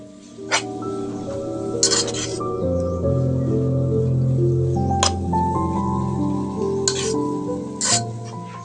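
A spoon works boita greens mash with salt and garlic in a pan, giving soft squishy stirring and a few sharp clinks of metal on metal over a low steady sizzle, heard close.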